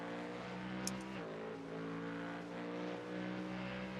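A GT3 race car in the iRacing sim drones at steady revs through the Bathurst 12-hour race, with a quick upshift drop in engine pitch partway through, heard from inside the car at low volume.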